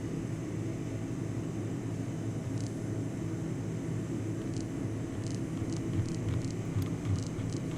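A Cessna 404 twin-engine aircraft cruising in flight in X-Plane 11, a steady low engine drone with broadband air noise and a few faint high cockpit clicks.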